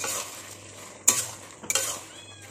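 Ridge gourd with potato, cashew nuts and poppy seeds stirred in a pan, a quiet steady background broken by two sharp scrapes of the spatula against the metal.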